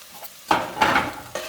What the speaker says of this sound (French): Lorsque ma poêle est chaude, je vais venir ajouter de l'oignon, de l'ail et un mélange de persil, basilic, poivron.